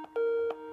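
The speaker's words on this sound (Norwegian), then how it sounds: "Hva er det som ringer?" A telephone rings indoors with a steady electronic tone lasting about a third of a second, a short burst before it, while music plays quietly in a room.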